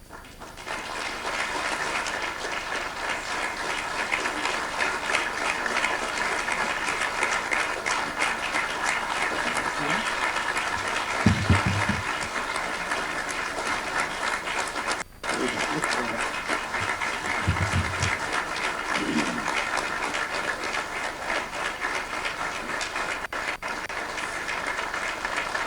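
An audience applauds António Guterres, Secretary-General of the United Nations, at the opening session of the 11th CPLP summit of heads of state and government. The clapping is a dense, sustained roar that fills the hall and barely dips throughout.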